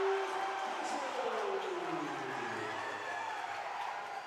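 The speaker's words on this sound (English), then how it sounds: "Bringing the crowd to their feet at the Robertson Center." A basketball crowd at the Robertson Center rising to its feet and cheering after a slam dunk, a broad sustained roar that fills the gym, with an announcer talking over it.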